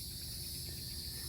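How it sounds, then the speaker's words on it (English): Steady high buzzing of cicadas fills an outdoor summer setting, a continuous dense drone with no pauses, moderately loud and without voices. "here comes the cicadas"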